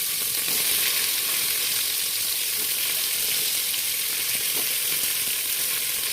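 Vegetables such as beans, potato and eggplant fry in a pan for shish palong chachchori, a loud, constant close-up sizzle with faint stirring and no voices.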